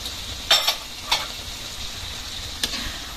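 Cardillo fish stew with long chillies stirred in a pan, a low simmering sizzle broken by three or four brief scrapes of a spoon against the metal.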